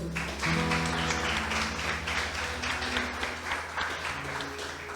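A church congregation applauds during an evening service, clapping spread across the room beneath a sustained organ or keyboard chord that holds throughout.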